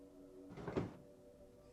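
Cupboard doors in the horror video game Granny open with a brief creaking swish midway through, set against a low steady hum.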